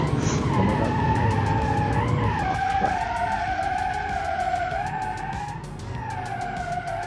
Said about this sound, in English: On any gear, it will spin the tires.